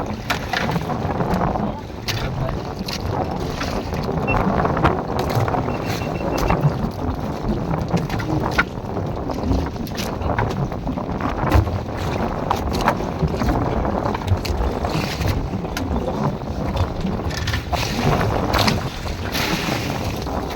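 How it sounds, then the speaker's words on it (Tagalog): Steady, heavy wind buffeting the microphone throughout, with the rumble of water and a boat beneath it. "Mahangin pa."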